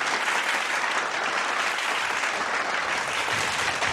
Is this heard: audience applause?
yes